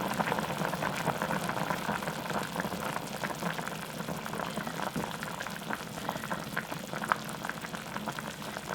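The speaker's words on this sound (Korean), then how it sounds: "이렇게 팔팔 끓었잖아?" Korean squid braise at a rolling boil in a pot, a steady close bubbling and gurgling that continues without pause, with no talking.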